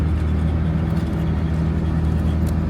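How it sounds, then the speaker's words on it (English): A Pagani Huayra supercar drives past, its engine a steady, fairly loud mid-range hum with a slight whir and no voices. "Beautiful Wyra driving by."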